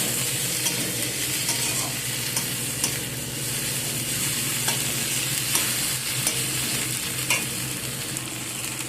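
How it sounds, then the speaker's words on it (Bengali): Chopped tomatoes with ginger and garlic fry in a pan, a steady close sizzle broken by repeated scraping and clinking strokes of a spatula stirring, with no talking. "টমেটোগুলোকে দিয়ে সব একসাথে আবার কষিয়ে নিচ্ছি"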